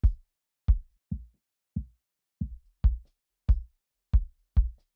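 Kick drum thickened with R Bass and shaped by a Pro-Q3 EQ cut to sound less boxy, struck nine times in a loose, steady pattern; each hit is punchy, deep and dry, with nothing else underneath.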